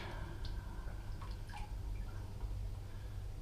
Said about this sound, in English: pull all these out individually and put them in this water.